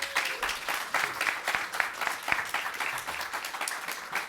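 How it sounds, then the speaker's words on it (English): Audience applause after a design and development Q&A panel for the Battle for Zendikar card game, dense steady clapping from a crowd across the whole stretch with a few sharper claps standing out. "Give these guys a round of applause."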